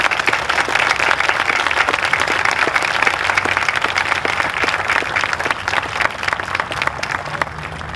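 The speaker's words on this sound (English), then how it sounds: "Please, everyone, join me in a round of applause of gratitude to them for their service" A large parade audience claps steadily and continuously for a Pearl Harbor survivor, dense applause filling the space without pause, tapering slightly toward the end.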